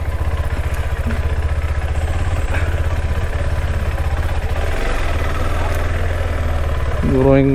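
A motorcycle engine chugs steadily at low speed on an off-road patch between trees, a loud close rumble with faint clattering, rising slightly in the final moment.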